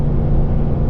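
A Toyota truck on 35-inch tires with 4.56 gears labours up a steep, heavy hill, its engine a steady loud low rumble with no let-up throughout.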